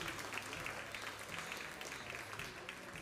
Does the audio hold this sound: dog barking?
no